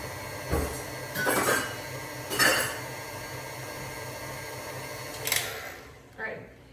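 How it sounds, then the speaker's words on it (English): Sour cream is mixed into muffin batter in a bowl, with a few spaced spoon clinks and scrapes against the bowl over a quiet background. "So I'll mix this sour cream in, and then I'll add the rest of my flour"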